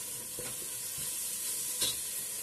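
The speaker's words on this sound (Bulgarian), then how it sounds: "И оставяме гъбите да се запържат при лука." Mushrooms and onion frying in a pan, a steady sizzle throughout with a few soft stirring scrapes and clicks, close and moderately loud, no talking.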